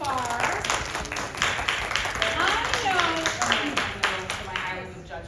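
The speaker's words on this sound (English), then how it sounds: "Let's get a round of applause for our participants so far." An audience gives a round of applause for the participants of a compliment duelling event at a steampunk convention, a steady dense clapping lasting several seconds, with voices mixed in.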